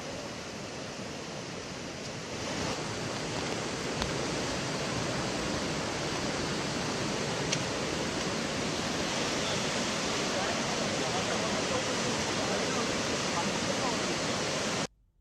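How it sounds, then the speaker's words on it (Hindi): Floodwater after a cloudburst at Sahastradhara roars continuously as fast-flowing waves crash against rocks, a loud, unbroken rush that starts a couple of seconds in and cuts off abruptly at the end. "तो तेज धार में बहती हुई लहरें जब पत्थरों से टकराती हैं तो शोर मचा रही है"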